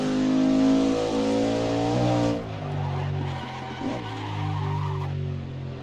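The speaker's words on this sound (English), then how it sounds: "You can just hear the tire screeching as it locks up" Race car tires squealing under a locked-up braking lock-up in the Assetto Corsa racing game, a loud sustained screech layered over the engine's droning note that drops in pitch midway as the car slows.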